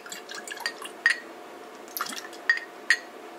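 Half a bottle of blueberry prebiotic juice drink is poured into a glass, heard as a few sparse, close liquid drips and clinks spread over a few seconds in a quiet room.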